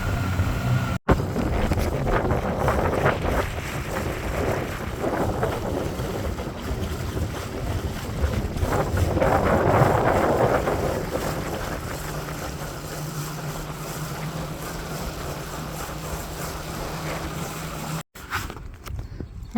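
A MacGregor 26M sailboat motoring back into a creek toward its mooring, with a low, steady outboard engine drone under constant wind buffeting on the microphone and the wash of water along the hull.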